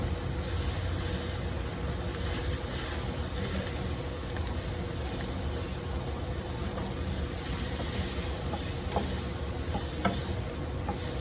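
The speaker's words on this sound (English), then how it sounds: "all you want to do is cook the flour paste out" Flour roux for a gravy cooking in a pan, a continuous soft sizzle and frying hiss with occasional faint stirring scrapes, steady and close throughout.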